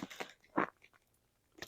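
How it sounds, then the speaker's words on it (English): Footsteps crunching on hard, crusty ice in a snowy yard, a few separate crisp crunches spaced unevenly, fairly close and quiet with silence between steps. "The ice is so crunchy and hard. When I step on it, I can hear it echoing."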